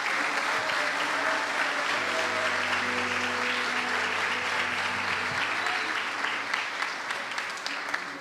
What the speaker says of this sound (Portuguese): Vamos aplaudir Jesus, irmãos.